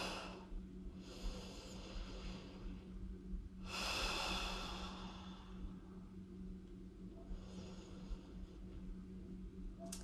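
Slow, deep breathing of a person lying down during a core workout: three or four long, airy breaths spaced a few seconds apart, the middle one loudest, over a steady low hum with no talking.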